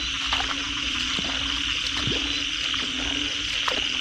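Large frogs croaking in a flooded rice field on a rainy day, a dense chorus of repeated croaks over a steady background drone, continuous and fairly close.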